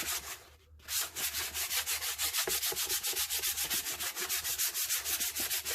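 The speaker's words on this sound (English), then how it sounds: "Now, usually what I do is I take a piece of sandpaper." Sandpaper rubs sticky label glue off a wooden cradle board in fast, even back-and-forth strokes, loud and close, after a brief pause at the start.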